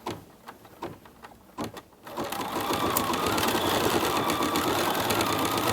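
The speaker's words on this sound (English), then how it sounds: "And we just let the machine run until this step is finished." A home embroidery machine stitches swirls on an in-the-hoop Christmas tree, starting with a few soft clicks and taps, then settling into a steady, fast mechanical whir that runs continuously at moderate volume.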